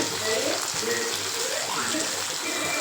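Thuthuvalai leaves sautéing in a pan for a thuvaiyal, giving a dense, even, close-up sizzle that holds steady for a few seconds while a voice talks faintly over it.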